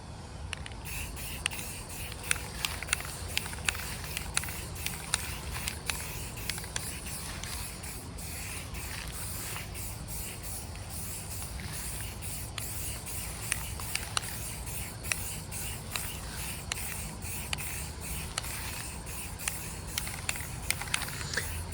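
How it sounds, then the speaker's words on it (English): Aerosol spray paint hissing steadily over a topiary Mickey head planter, a close, continuous spray with small patters and scrapes, no talking. "So we'll go ahead and start painting this thing."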